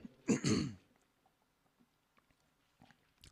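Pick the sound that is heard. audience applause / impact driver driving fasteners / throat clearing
throat clearing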